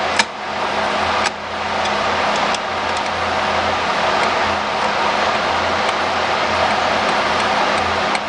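Engine fed by a freshly rebuilt Holley carburetor runs loud and steady up close, a dense continuous roar with only slight swells where the throttle is nudged, with a sharp click near the start and no voices.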